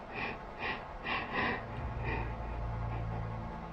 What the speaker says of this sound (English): You can hear the fear in this man's breathing as he moves around his home